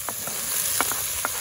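Ground beef sizzling in olive oil in a pan over a campfire, a steady crackling hiss with a few brief spatters and stirring scrapes, close and alone.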